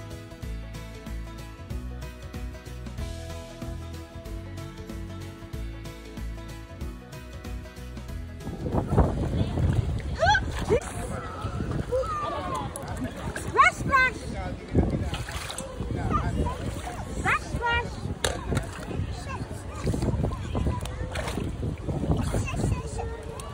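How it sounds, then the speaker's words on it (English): Wind at a beach by the Grand Bahia Principe hotel rumbles and buffets hard against the microphone after music fades out, a loud continuous roar with gusts, under people talking nearby. "I'm leaving the sound on so that you guys can hear the wind"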